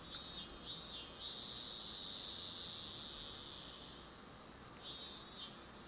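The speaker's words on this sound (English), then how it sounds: "The cicadas." Cicadas in the video game Yuoni give a continuous high, shrill buzz that swells and fades in a few pulses, faint and alone.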